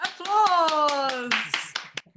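A single person claps hands close to the microphone at an online festival event, giving a steady series of sharp, evenly spaced claps. A voice sings or speaks a sustained line over the first half of the claps.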